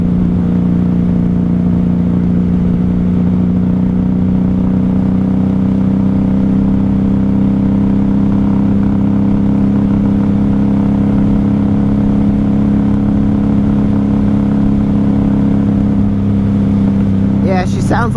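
A 1994 Honda Magna 750 V4 motorcycle engine hums steadily at cruising speed while running low on fuel, a loud, close, even drone with wind noise and no change in pitch.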